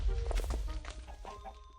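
Minecraft chickens cluck and squawk in a few short bursts over a low rumbling background, close and moderately loud.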